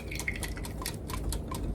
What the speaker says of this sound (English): So now go ahead and pour your egg in.